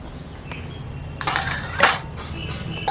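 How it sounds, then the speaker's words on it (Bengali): A metal tiffin box holding cooked rohu fish lifted out of a pot, metallic clanks and scrapes in a few close bursts over a low background hum. "এবার আমি মাছটাকে আস্তে করে টিফিন কৌটোটাকে তুলে নিচ্ছি"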